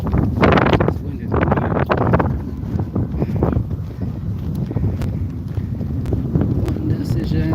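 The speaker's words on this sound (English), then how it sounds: "It's windy." Wind in Jamaica buffets the microphone in a steady low rumble with gusty surges, strongest near the start, with no clear talking.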